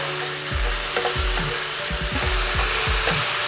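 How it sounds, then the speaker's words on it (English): Mushrooms saute in hot vegetable oil for a Thai tom yum chicken curry, giving a steady close sizzle with a run of sharp scraping stirs, about eight strokes spread through the clip. "to this I am adding the mushrooms and saute the mushrooms"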